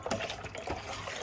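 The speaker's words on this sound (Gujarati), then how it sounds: "આની અંદર પહેલાં પાણી રેડ્યું છું." Water is poured into strained date and tamarind chutney in a home kitchen, a short, close, steady splashing fill lasting about a second.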